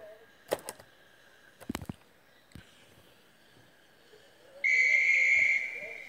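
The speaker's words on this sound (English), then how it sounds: "As the guard blew his whistle, Thomas set off." A sharp, steady whistle blast sounds for about a second after a few scattered clicks and knocks, fairly loud against a quiet background.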